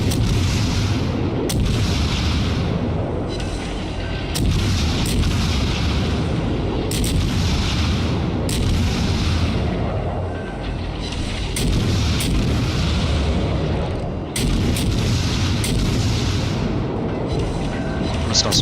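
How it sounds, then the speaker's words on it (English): Naval guns firing in World of Warships on an American Phoenix cruiser: a steady series of loud booming salvos roughly every couple of seconds, layered over continuous rumbling battle ambience. "Fire shots out, armor piercing out."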